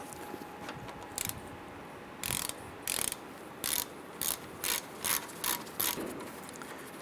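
Repeated short ratchet clicking bursts, about ten of them, in a quiet space, each a quick metallic zip at a steady working pace, loosening 15mm rear brake caliper bolts on a 2005-2010 Chrysler 300.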